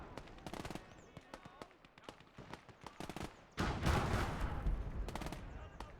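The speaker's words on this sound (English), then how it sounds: "My ally is definitely exchanging fire with that super Pershing" Gunfire from a tank engagement in the Gates of Hell PvP game: sharp single shots crack at irregular intervals, then a heavier blast leads into a sustained rumble with continued firing, partly under talk.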